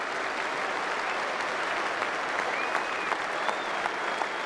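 A standing ovation at Lord's cricket ground for an English batsman reaching a Test match double hundred: dense, steady crowd applause fills the whole stretch, with a few faint whistles rising over the clapping.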